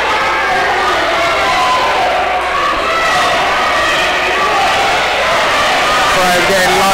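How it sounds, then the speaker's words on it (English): Spectators at a Red vs Blue fencing match roar and cheer continuously in a loud, dense crowd swell, with voices shouting throughout. "Crowd getting lively with 15 seconds to go."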